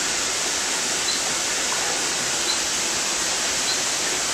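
Water circulating through a pipe system feeding rows of bottles in an amphibian conservation tank setup, a loud, steady, hissing rush like a small waterfall that continues evenly throughout with no voices.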